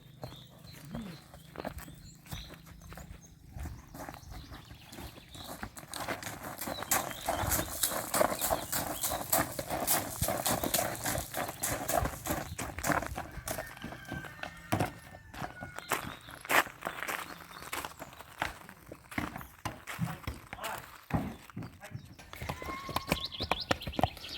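A mare's hooves clop steadily and rhythmically as she walks, with continuous clip-clop footfalls close by over quiet outdoor background.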